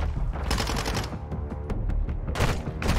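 Call of Duty Modern Warfare 2 gunfire erupts in loud, dense automatic bursts with rapid cracks, pausing briefly then resuming with fresh volleys, close and punchy with no talking.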